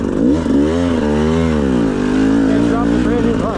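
A 2025 GasGas EC 300 two-stroke dirt bike on a trail ride, its engine loud and close, revving with rising and falling pitch in continuous sweeps over about three and a half seconds.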